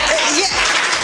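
An audience at a Hindi comedy poetry show bursts into a short, dense round of clapping and cheering that fills the whole moment.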